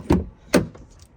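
Someone opens the door of a 2019 Jaguar F-PACE, making two sharp, close clunks about half a second apart, followed by faint rattling in a quiet setting.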